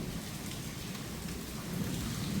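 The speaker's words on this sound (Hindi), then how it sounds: "जबरदस्त बारिश है, जबरदस्त" Heavy rain pours down steadily during a violent storm with hail, a dense, even roar close by with no voices, building slightly louder toward the end.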